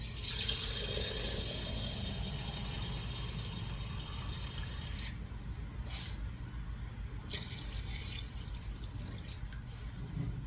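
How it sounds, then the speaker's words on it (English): Water is poured into a cooking pot of pork neckbones and vegetable stock, a steady close-up rush for about five seconds that gives way to quieter trickling and scattered drips. "I'm going to add some water to it."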